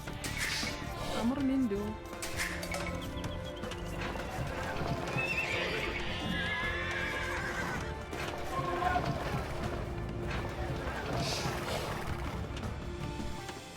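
Knights' horses in the Age of Empires II video game neigh and whinny repeatedly over a continuous rumble of galloping hooves and battle noise, with someone talking throughout.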